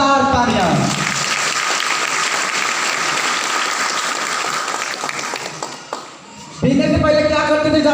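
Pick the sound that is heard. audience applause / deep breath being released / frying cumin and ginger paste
audience applause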